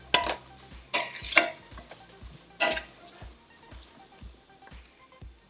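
A spoon stirs butter in a metal cooking pot, giving a few sharp scrapes and clinks followed by a run of soft, regular taps against the pot, close and alone.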